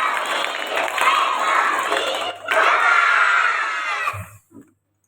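A crowd of schoolchildren at a primary school event claps and cheers to welcome a visiting sales officer, a loud, dense burst of many voices and hands that briefly dips, swells again, then cuts off.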